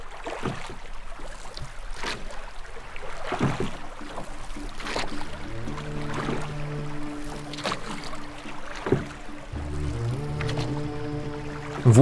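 Boat moving on open water, with a steady wash of water and soft knocks and creaks spread through the stretch, and a faint tonal hum entering toward the end.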